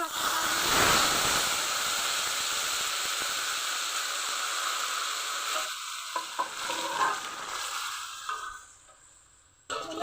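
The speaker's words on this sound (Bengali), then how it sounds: "তেল গরম হয়ে গেছে, দিব তেজপাতা, দিব 5 ফোড়ন" Bay leaf and panch phoron (five-spice) hit hot oil in a kadai for a cucumber dal, a loud, steady sizzle with occasional stirring clicks that gradually fades toward the end, close up, with no talking.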